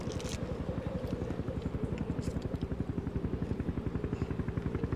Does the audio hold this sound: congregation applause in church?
no